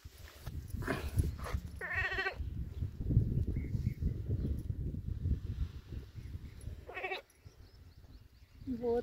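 Sheep bleat in short, separate calls while being milked by hand, with rustling and handling noise throughout and a few nearby spoken words between the cries.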